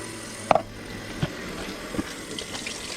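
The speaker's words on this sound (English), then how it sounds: "I'm going to drain my beans out and I'm going to rinse them in the water." Canned beans, three cans' worth, being drained and rinsed under running water in a home kitchen while making chili: a soft steady trickle of water with a few sharp splashes and clinks near the start.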